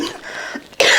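A single short cough from someone who has been coughing all night, close and abrupt, ending in a loud harsh burst.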